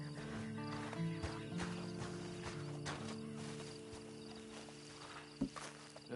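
Horse hooves in the Red Dead Online video game, clopping at a slow walking pace over a low, steady game ambience and faint musical tones, with no one talking.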